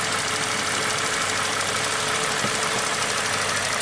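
A GM V6 with a timing chain fault runs at idle nearby, a steady rough engine drone with a faint uneven lope and no talk over it.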